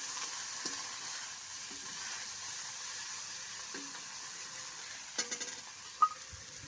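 Masala sizzles steadily in a pan for a homestyle Odia fish curry, a close and continuous hiss. Occasional soft taps and clinks of stirring mark the last seconds, with no talking.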